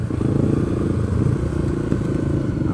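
Motorcycles ride through the streets of a small town in São João, Brazil, their engines droning loudly and steadily with a rough, rattling rumble close by.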